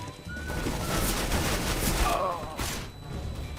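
Dense, continuous rapid gunfire from Counter-Strike: Global Offensive in an arms-race match, a loud crackling fusillade that runs without pause through the whole moment.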